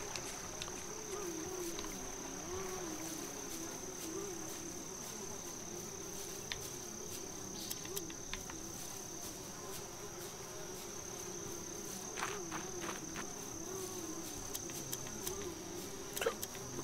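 Insect-like buzzing of flies in the video game Yuppie Psycho, a faint steady drone with a high thin whine running throughout, alone with no talk and occasional small clicks.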